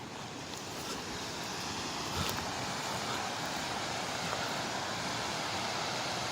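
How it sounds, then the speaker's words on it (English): Thup Thup waterfall in Meghalaya, North East India, heard from nearby as a steady, broad rushing roar with some wind buffeting at the microphone, continuous and fairly loud, with no talking. "I can hear some heavy noise of waterfall"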